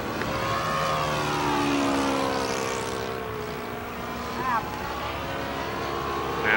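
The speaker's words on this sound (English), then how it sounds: "you can hear the sound of this four-stroke, quite different than the regular two-cycle model engines" Buzzing four-stroke model airplane engine with a rich harmonic drone, pitch sweeping up and down as it passes overhead, loud and continuous.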